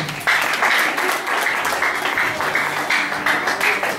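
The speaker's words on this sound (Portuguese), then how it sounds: "Vamos aplaudir ao Kevin?" Graduation guests applaud Kevin with a steady wash of clapping from a crowd, moderately loud and continuous, while a voice and some cheering ring out faintly above it.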